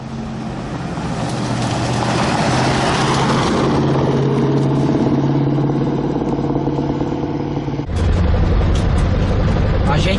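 Ford Maverick V8 pulling away on a dusty dirt road in drought, a loud continuous engine roar that shifts pitch as it accelerates, with a clunk near the end and people talking underneath.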